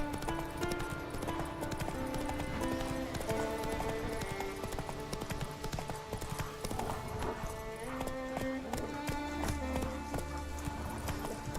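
Horse galloping in The Witcher 3, a steady run of hoof clip-clops over game music that plays throughout.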